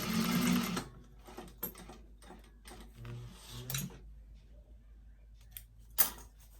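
A sewing machine stitches a zipper into a vintage-style expandable tote bag, running in short quiet bursts of rapid needle clatter with pauses and small clicks between runs.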